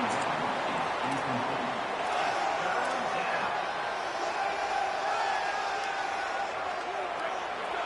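Home crowd at a college football video game stadium on a third-down defensive play, a steady dense roar of many voices filling the whole stretch at even loudness.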